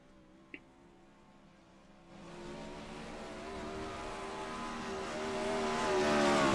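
Race car engine on a dirt speedway in the iRacing game, faint at first then swelling into a rising buzzing drone as the car accelerates and draws closer, with no talk over it.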